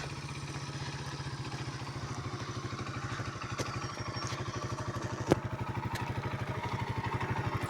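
A motorcycle engine runs steadily while riding, producing a fast, even putter close by that goes on throughout. A single sharp knock stands out partway through, and no one speaks.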